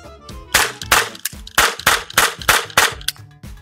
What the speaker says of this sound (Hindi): अब ये रेडी है चलाने के लिए। अब इसे चलाता हू